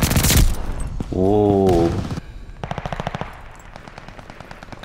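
Rifle fire crackles in a Call of Duty Vanguard multiplayer match on PS5, loud rapid bursts of shots with a player's brief exclamation in the middle and more spaced gunfire trailing after.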